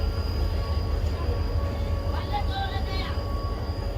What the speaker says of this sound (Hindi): फाइनली ट्रेन निकल रही है हमारी